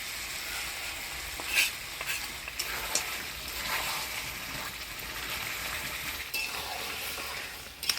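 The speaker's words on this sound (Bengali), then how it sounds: "এবার ভাজা বাটা মশলাটা দিয়ে ভালো করে কষাই নিবে" Mutton sizzles and fries with a fried ground spice paste in a pan, a soft steady crackle with occasional stirring scrapes and light clinks, fairly quiet and close.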